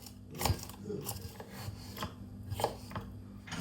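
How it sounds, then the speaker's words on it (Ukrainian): A knife chops bell pepper into large pieces and then onion at home for Transcarpathian bograch stew: soft, quiet taps on a board come at an uneven pace, faint and close. "Перець нарізаємо великими шматками. Цибульку нарізаємо також."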